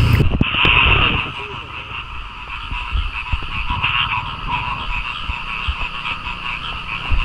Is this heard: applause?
no